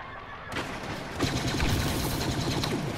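Rapid blaster bursts ring out in Star Wars Battlefront on Sullust as rebel ships are shot down, sharp repeated shots crackling over a dense steady roar of battle, loud and close.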